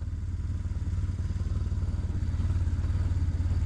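An off-road motorcycle engine revs steadily nearby, its low pulsing drone rising slightly in loudness as it accelerates, with no talk over it.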